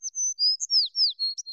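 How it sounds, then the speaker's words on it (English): A small bird sings a quick run of high, clear chirps and sliding whistled notes, about eight short phrases in steady rhythm, close and fairly loud with no other sound. "Little bird loved to sing as loud as she could."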